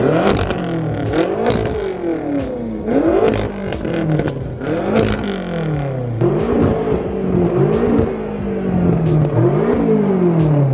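A tuned 800 bhp BMW F13 M6 with an Evolve Stage 2 Plus tune and custom exhaust revs hard again and again, rising and falling in sharp, loud bursts with a raspy exhaust note, close by.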